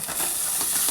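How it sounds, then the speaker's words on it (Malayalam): Beetroot goes into hot oil with fried mustard seeds, giving a steady, close hissing sizzle that holds evenly for a second with no voices. "നമ്മുടെ ബീട്രൂട്ട് ദാണ്ട ഇടുകയാണ്, കടുക് വറുത്ത്."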